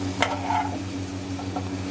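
Mutton liver goes into a pan of sizzling gravy with ghee, a steady low fry hiss with a soft clink and stir near the start, close and without talk.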